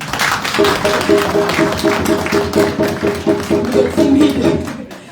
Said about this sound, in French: Applaudissez-les encore